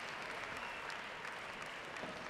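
Spectators at the Hong Kong Open squash semifinal applauding after the match, a steady, distant-sounding patter of clapping that holds evenly throughout at low level.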